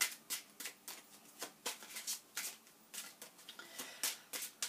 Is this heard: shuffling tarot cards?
yes